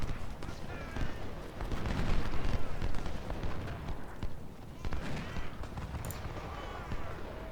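Massed musket volleys from infantry firing on enemy troops in the Civil War strategy game Ultimate General: Civil War, a dense, continuous crackle of shots rumbling steadily throughout at moderate loudness.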